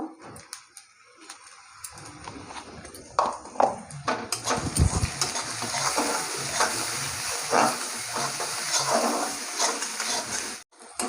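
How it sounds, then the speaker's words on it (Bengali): Onion frying with turmeric in a pan, a steady crackling sizzle with stirring clatter and scraping throughout. "পেঁয়াজটাকে ভেজে নেব একটু হলুদ দিয়ে দেবো"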